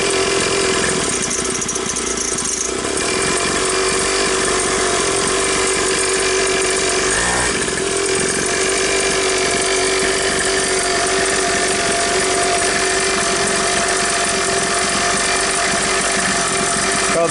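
A Coolster 49cc dirt bike engine runs steadily and loudly on its own, holding a continuous buzzing drone with a brief dip partway through.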